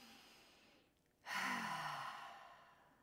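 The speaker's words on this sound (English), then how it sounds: "where I'm going to take a deep breath in through my nose. And then I'm going to blow it out of my mouth." A deep breath drawn in through the nose, then a long, steady exhale blown out through the mouth, close and fairly soft, with a short pause between the two.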